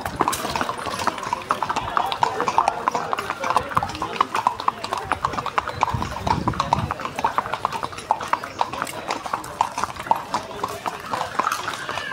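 Horse hooves clip-clop in a quick, steady rhythm on the trails of Matheran hill station, close and continuous for several seconds, with people talking over the hoofbeats.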